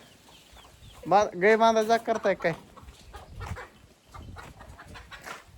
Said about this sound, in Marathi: आमचे कोंबड्या गँग बघा, कोंबड्या गँग